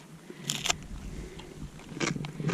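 Thin crunchy rye crackers spread with peanut butter being bitten and chewed close up, a few sharp crisp crunches in short bursts over faint outdoor background noise in a van.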